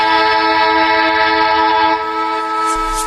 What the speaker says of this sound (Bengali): রহস্যের মীমাংসা করার আগেই ট্রেন এসে গেল।